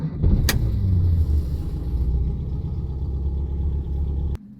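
A 1955 Austin A40 Cambridge engine runs rough, a close, steady low rumble with an uneven, lumpy idle, broken by a brief sharp knock early on, then cutting off abruptly near the end.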